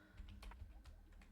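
Quiet typing on a computer keyboard with long freshly done nails, a few soft irregular key clicks close by, with no talk.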